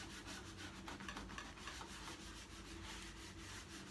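A Scotch-Brite pad scrubs CitriStrip residue off a wooden drum table top with a continuous, faint, gritty rubbing that keeps a steady texture throughout. Nobody is speaking.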